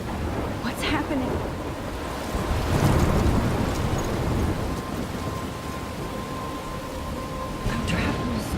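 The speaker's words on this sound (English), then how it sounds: "I'm trapped in a storm?" Thunderstorm with steady heavy rain in the video game Life Is Strange, a dense continuous wash of rainfall with a rolling thunder swell near the middle, heard alone without talk.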